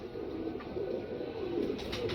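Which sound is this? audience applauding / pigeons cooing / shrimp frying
pigeons cooing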